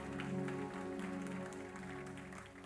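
Congregation clapping for God during a French-language church service, a dense steady wash of applause lasting throughout, fairly loud and close, with a sustained tonal music-like hum beneath it.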